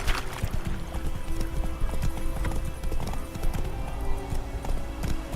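A horse gallops in The Witcher 3 video game, with quick, uneven clip-clop hoofbeats close by over a busy ambient background and faint game sounds, continuous throughout.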